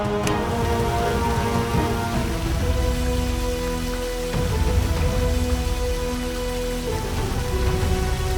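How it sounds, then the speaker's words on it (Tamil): Steady rain pattering on a surface, a dense continuous hiss with a low rumble underneath, fairly close and unbroken throughout. "என்ன திடீர்னு மழை வருது?"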